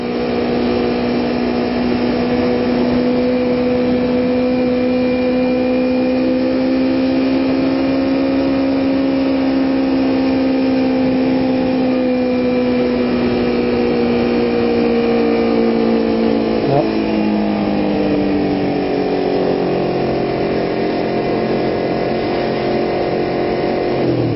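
A low-powered motorcycle cruises along Mulholland Drive, its engine a steady, close drone whose pitch dips and shifts as it slows near the end, with no talking.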